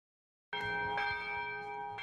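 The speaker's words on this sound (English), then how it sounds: "The church bells are ringing on a Sunday morning, and everyone in town can hear them." A church bell rings on a Sunday morning, one strong clear strike after a brief silence, its tone hanging and sustaining with a fainter follow-up, moderately distant and alone.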